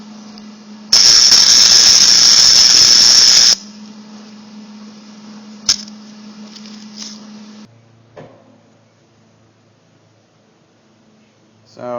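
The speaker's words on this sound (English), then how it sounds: "I'll be welding at the maximum setting" Arc welding on a driveshaft at the maximum machine setting: a loud, steady crackling hiss that runs for about three seconds, followed by a quieter hum and a few small clicks.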